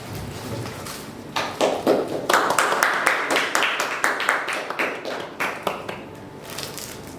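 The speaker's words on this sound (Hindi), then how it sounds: "ताली बजाएं।" An audience applauds at an award ceremony welcoming a successful NEET exam student, a burst of close, irregular hand claps swelling for several seconds and then thinning out.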